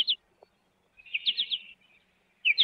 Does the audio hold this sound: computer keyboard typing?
no